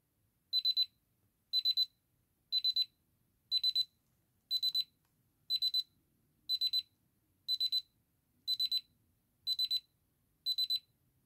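A high electronic beeping pattern from a DSC PowerSeries PC1832 security alarm panel arming in away mode, quadruple beeps repeating about once a second in a steady cycle, close and clear in an otherwise quiet room.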